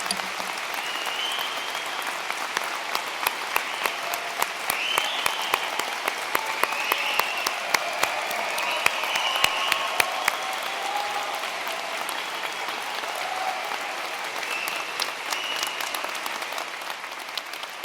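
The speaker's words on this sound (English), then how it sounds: "I'd like to invite my colleagues and all our guests to join with me in applauding this wonderful" A large audience at an Edinburgh University School of Social and Political Science graduation ceremony applauds the graduates, with steady, dense clapping that holds throughout at an even level and no talking.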